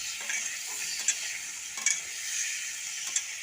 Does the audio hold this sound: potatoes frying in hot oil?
yes